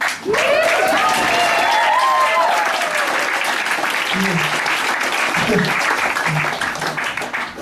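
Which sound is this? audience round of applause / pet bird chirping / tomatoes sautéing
audience round of applause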